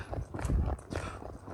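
Horse hooves strike the ground in a brief run of rhythmic clip-clops during a hard training ride, close and fairly loud with a few quick beats.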